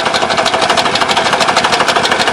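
A homemade two-row vibrating potato digger works in a village potato field in Kalyuzhne, Sumy region, with a loud, steady, rapid mechanical rattle that pulses like a machine gun and carries no talk.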